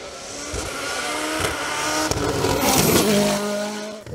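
Nova NP012 Turbo race car at a hill climb tears past with rising revs, gear-change drops and brief tire squeal, loud and near throughout, no one speaking.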